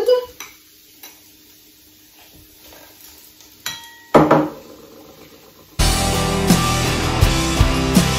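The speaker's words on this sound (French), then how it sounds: "Je mets les oignons dans la poêle qui est chaude." Diced onions drop into a hot frying pan with a clatter and scrape of the pan, then a steady, loud sizzle of frying takes over and continues.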